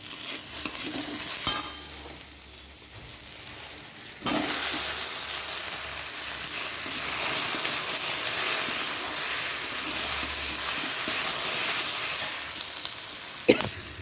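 Taro and potato fry with chicken in a pan, making a continuous close sizzle and hiss with occasional clatters of stirring.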